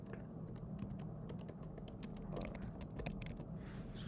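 Fast, steady typing on a computer keyboard while entering programming code, a dense run of light clicking keystrokes, close and fairly quiet, with no talking.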